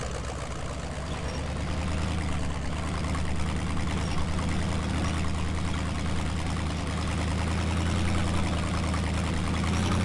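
Truck engine running in the SnowRunner video game, a steady low rumbling drone that holds evenly for the whole stretch, with no talking.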